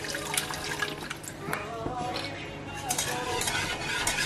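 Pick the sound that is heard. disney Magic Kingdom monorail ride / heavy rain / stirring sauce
stirring sauce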